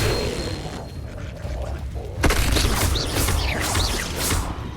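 Hogwarts Legacy Levioso spell effect: a low rumbling lead-in, then a sudden loud whooshing burst with shimmering swirls that stays busy and close to the end.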